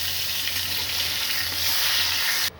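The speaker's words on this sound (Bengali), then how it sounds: "এবার আমি অল্প লবণ দিয়ে এটাকে খুব ভালো করে ভাজবো।" Pieces of pointed gourd fry in oil with salt and turmeric, giving a steady, loud, bright sizzle with a soft hiss throughout that cuts off abruptly near the end.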